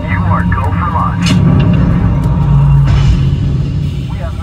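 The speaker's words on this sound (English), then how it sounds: "We have main engine start." Simulated spacecraft main engine start on an Epcot ride: a loud, sustained low rumble fills the cabin, swelling midway, with a few scattered electronic beeps and effects over it.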